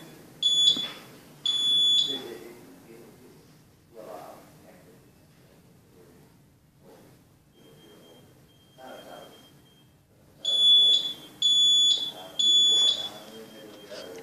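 A SMAI cross training programmable timer beeps in short high-pitched bursts at the finish of its countdown, three quick groups at the start and three more near the end, with quiet stretches and faint background sound between them.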